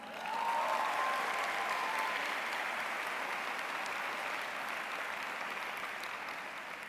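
Sustained audience applause fills an auditorium at a university social work winter commencement ceremony, a dense, steady wash of many hands clapping that swells at the start and slowly tapers, with no speech over it.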